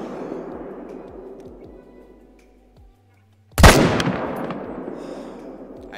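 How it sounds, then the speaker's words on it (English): In a hunting video game a single loud rifle shot cracks out at a piebald whitetail deer, following a quiet stretch with faint low thumps, then its boom rolls away and decays slowly; no voices. "So I'm going to shoot the pie ball and give my best attempt at it"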